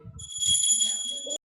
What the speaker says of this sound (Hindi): देखो घंटी बजा रहा है कोई